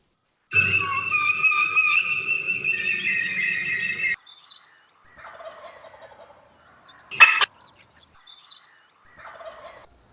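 A wild turkey gobbles loudly and rapidly for several seconds, followed by quieter clucks and one sharp high call, close by.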